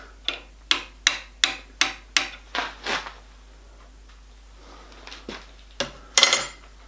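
A hammer taps a small punch to nudge a milling cutter downward in a shop-built die filer, about eight sharp metallic strikes in quick succession, then a pause and a few scattered knocks and clinks, close and clear with no talk.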